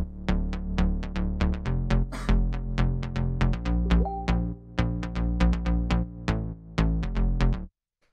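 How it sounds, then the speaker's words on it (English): Melodic house bass synth playing an energetic syncopated pattern of punchy, plucky notes, loud and upfront with no other sounds, stopping abruptly near the end. "the next sound we have here is the bass, which sounds like this."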